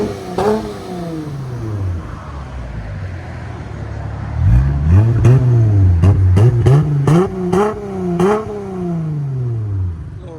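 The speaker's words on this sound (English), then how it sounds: "Little revving difference." A 2019 Dodge Challenger SXT with 3.6L V6 and glass pack exhaust idles with a low burble, then blips the throttle repeatedly in sharp, loud revs that rise and fall in quick succession.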